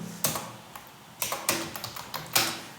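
Keys clack on a computer keyboard as an Alt code is entered, a few sharp close taps in short irregular bursts with brief pauses between them.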